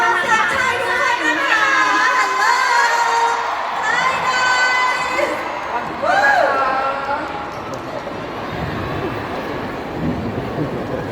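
A lively concert crowd in Thailand shouts and cheers with high-pitched screams, continuous and fairly loud, with a voice calling out over the noise.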